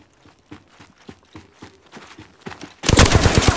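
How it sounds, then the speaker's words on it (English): Mastiff shotgun fire in a squad battle-royale video game: a series of evenly spaced, muffled shots, then a sudden loud, dense burst of gunfire at the end. "Shooting."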